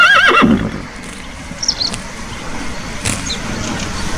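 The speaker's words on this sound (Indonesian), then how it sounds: "ternyata ini kuda." A toy horse gives a short electronic neigh, a quick wavering whinny at the very start, followed by faint clatter and scattered handling noises.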